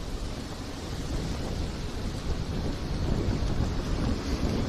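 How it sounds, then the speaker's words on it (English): Wind buffets a microphone outdoors in Tokyo, a continuous loud low rumble and roar that swells slightly toward the end, with no voices. "it's getting windy. Are you hearing that"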